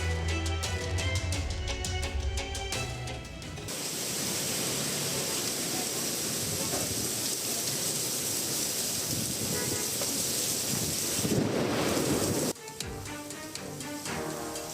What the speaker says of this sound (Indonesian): Hujan deras dan angin kencang melanda wilayah Jakarta Timur Minggu sore